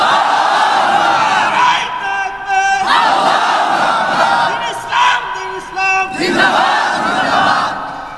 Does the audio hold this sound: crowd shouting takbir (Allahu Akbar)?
yes